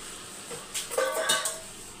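Half a kilo of chicken being stirred into a pot of masala for a quick chicken kuzhambu, a few clinks and scrapes of a spoon against the metal pot over a faint background sizzle, close and brief.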